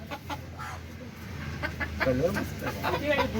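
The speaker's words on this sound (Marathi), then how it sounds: "कोंबडा बघा" A rooster clucking nearby in short bursts while people chat around it.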